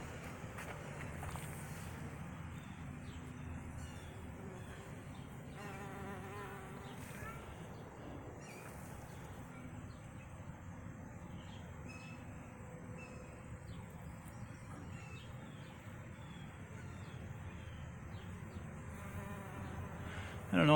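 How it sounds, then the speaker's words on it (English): Bees buzz steadily around pumpkin and potato plants in a backyard vegetable garden, a continuous low hum with broadband outdoor noise throughout. "We got a lot of bee action finally"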